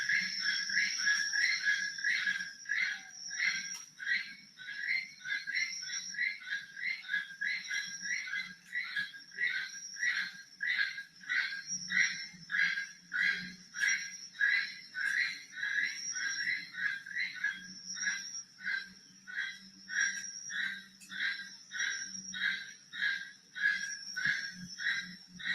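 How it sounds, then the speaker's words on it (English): Keel-billed toucans in Costa Rica give a long run of rhythmic, evenly spaced croaking calls, steady and fairly near for the whole stretch, over a faint low hum. "So here's the sound of them croaking."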